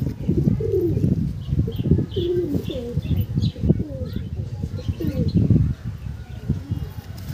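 Several Andhra pigeons coo in repeated rolling calls close by, with faint chirps and a rustle of wings, under a steady murmur of background sound.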